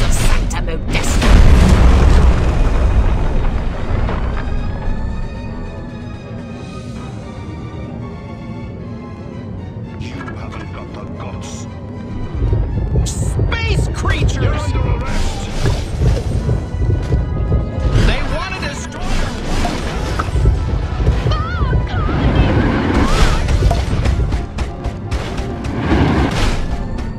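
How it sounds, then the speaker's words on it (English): Alien saucer weapon in Destroy All Humans, a Quantum Deconstructor blast wave tearing through commercial buildings in Santa Modesta. It comes as heavy rolling booms and crumbling rumble that swells and holds for long stretches, loud and close, with game voices over it. "here's a frightening new weapon for your saucer. The Quantum Deconstructor. It has a blast wave that destroys everything."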